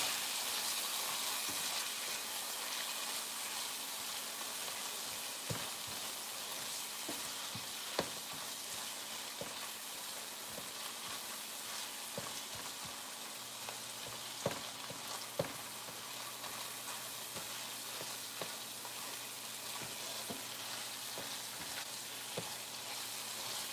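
Ground beef sizzles steadily in a skillet with paprika as it browns for beef and egg noodles, a constant close frying hiss with occasional soft scrapes and stirring clicks.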